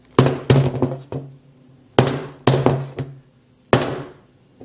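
A 2.5-pound hammer drops from about six inches onto an iPhone 6s, giving six sharp, heavy thunks in an irregular rhythm. Each close, loud impact rings briefly and fades, with quiet between strikes.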